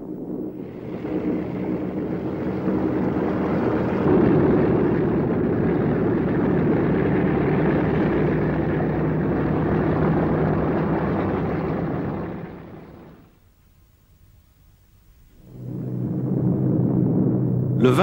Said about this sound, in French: Le 20 août 1935, le Boeing décolle en direction de Dayton